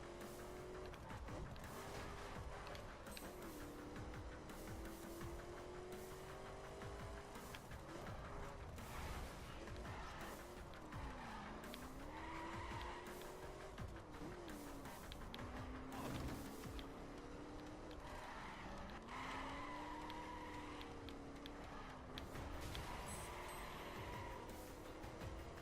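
A car driving in the racing game The Crew, with a steady engine drone that rises and falls as it shifts through gears, plus creaking, rattling mechanical noises and brief skids, continuous throughout.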